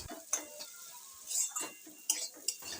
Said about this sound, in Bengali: দিয়ে এটাকে আবারও খুব ভালো করে কষে নিচ্ছি